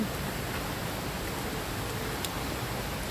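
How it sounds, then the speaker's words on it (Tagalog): Steady, hissing wash of heavy typhoon rain pouring down in Hong Kong, constant and fairly loud, with no voices and only a faint tap near the end. "Umuulan eh."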